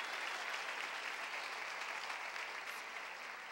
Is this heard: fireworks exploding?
no